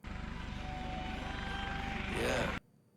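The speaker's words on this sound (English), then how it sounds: "Was that a real chopper?" A helicopter drones over a music track in a rap music video filmed in a field, its steady rotor thrum pulsing throughout and swelling briefly before cutting off abruptly.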